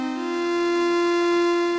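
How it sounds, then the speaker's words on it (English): A square wave oscillator on a synthesizer holds one steady buzzing tone with strong evenly spaced harmonics, continuous and alone for under two seconds. "So we've got a square wave oscillator. It sounds like that."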